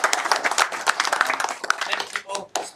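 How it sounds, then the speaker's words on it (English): Audience at a London Global Azure Days 2024 tech conference applauding the speakers, a dense patter of clapping hands mixed with background chatter and voices, fairly steady before thinning out near the end. "let's give them another round of applause"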